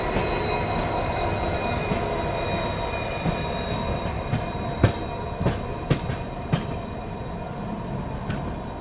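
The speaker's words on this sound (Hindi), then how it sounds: "चलिए फिलहाल निकल गई है ट्रेन अपनी।" A long-distance express passenger train rolling on rails after leaving a station, heard from onboard as a steady rumble with occasional sharp wheel squeals and clicks, no voices.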